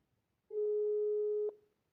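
A single steady telephone busy-signal tone, lasting about one second, sounds clearly and alone during an outgoing call to a seller.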